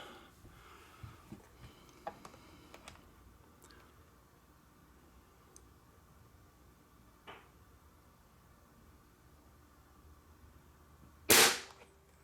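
A Gamo Swarm air rifle trigger being pulled gives a single loud, sharp snap near the end, after long quiet stretches broken only by faint clicks and handling noises.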